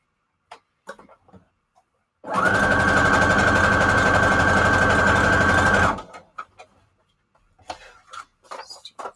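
A sewing machine runs steadily for about four seconds, stitching a straight seam on junk journal pages, with brief handling clicks and rustling of paper before and after.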